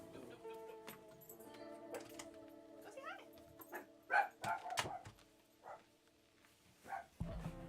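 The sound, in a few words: dogs barking and whimpering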